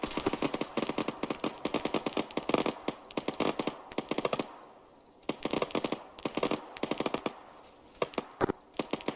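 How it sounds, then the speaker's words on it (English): Rapid automatic gunfire and single shots in a military video game mission, as two squad members engage enemies firing from the west in a town; dense bursts crackle almost continuously, with a brief lull midway before firing resumes. "shots coming in from the west, currently Blade and Dusek engaging enemies"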